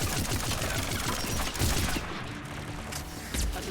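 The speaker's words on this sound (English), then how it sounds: "Let's use the arc pistol." Arc pistol firing in Mass Effect 3 during a fight with a Geth Prime, a rapid crackling stream of electric discharges that runs dense and loud, then thins out under the busy battle noise.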